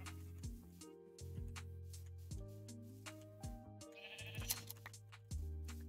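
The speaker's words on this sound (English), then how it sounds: "Sheep shearing ASMR." Minecraft sheep bleating in a quiet game scene, several wavering bleats of varying pitch spread across a few seconds with soft clicks of shearing between them, fairly faint and with no voices.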